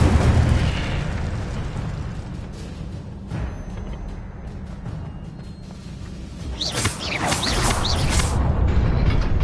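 Casting the Incendio fire spell in Hogwarts Legacy gives a burst of crackling, whooshing fire among booming effects, with a bright flare late on over a rumbling background.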